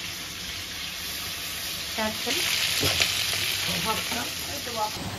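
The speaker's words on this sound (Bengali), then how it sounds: "এতগুলো মাছ ভাজতেও প্রচুর সময় লাগে বলো" Pieces of large, oily stingray (shankar fish) sizzle steadily in hot oil in a pan, with brief stirring scrapes near the middle and end and a faint voice in the background.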